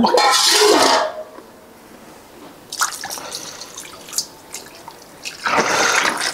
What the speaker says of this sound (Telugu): ఇప్పుడు ఇందులో కొంచెం వాటర్ యాడ్ చేస్తా